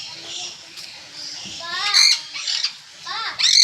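A bird at a zoo lets out a run of sharp, rising squawks, close and fairly loud, repeated in short bursts, with children chattering and playing in the background.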